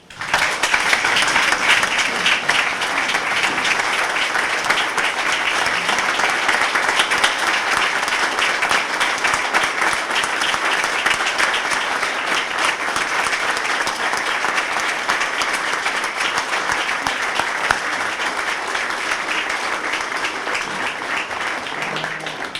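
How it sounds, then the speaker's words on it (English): Sustained audience applause for the Ó Dufaigh family at a memorial evening, a dense, steady crowd of clapping hands filling the room for over twenty seconds without a break. "a round of applause for the Ó Dufaigh family"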